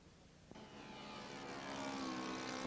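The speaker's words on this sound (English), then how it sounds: "Roy has used the Zenoa G38 for power." RC model 1914 Sopwith Tabloid floatplane of balsa, bass and hardwood with fiberglass-covered foam floats, powered by a Zenoa G38 gas engine, droning in flight; the steady buzzing engine note swells louder after a brief knock, with no talk.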